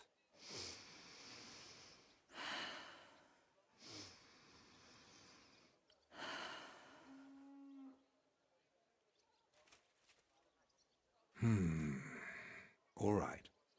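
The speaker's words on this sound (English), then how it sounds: "Your breathing is improving." A character in the video game Kingdom Come: Deliverance II breathes heavily: a run of slow, deep, rasping breaths about every two seconds, followed by a couple of sharper, louder exhalations.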